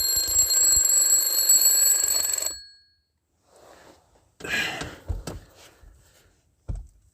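An alarm clock rings loudly and continuously for a couple of seconds, then cuts off, leaving quiet with a few faint handling thumps afterward.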